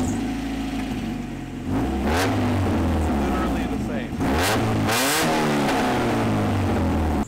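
A car with a glass pack muffler whose packing has blown out revs hard several times, the loud raspy exhaust rising and falling in close, continuous bursts with no talk.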